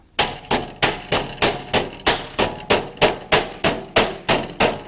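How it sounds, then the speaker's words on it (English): A hammer strikes sheet metal about fourteen times in a steady rhythm, bending the edge of a door panel into a right angle; the blows ring sharp and loud up close, and no one speaks. "take a hammer and we're going to bend this down and make a complete right angle out of it"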